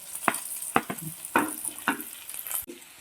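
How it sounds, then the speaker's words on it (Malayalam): Green chillies with crushed ginger and garlic sauté in a pan for a Kerala ash gourd theeyal, with a soft sizzle broken by several sharp scraping stirs and spoon knocks at irregular intervals. "പച്ചമുളകൊക്കെ ഒരുവിധം നല്ലോണം വഴണ്ട് വന്നിട്ടുണ്ട്"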